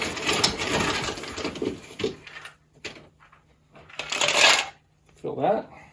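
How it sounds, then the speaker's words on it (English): Cocktail with yuzu shaken hard with ice in a shaker, a loud close rattle of ice for about two seconds, then scattered knocks and clinks, a second burst of shaking, and a final short rattle. "we're going to throw some ice in here and shake this up"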